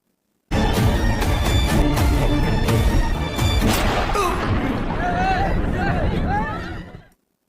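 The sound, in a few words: gunshot in a film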